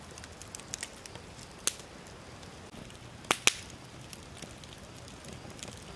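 An outdoor campfire of wet wood crackles with scattered sharp pops over a low hiss, including a couple of louder snaps near the middle, with no talking.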